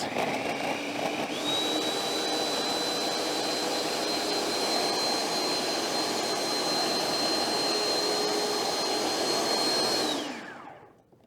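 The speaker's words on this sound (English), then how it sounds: "And turn this on for a little bit and blend it." A food processor blending chickpeas into hummus whirs loudly and steadily for about ten seconds with a high whine riding on top, then spins down and stops.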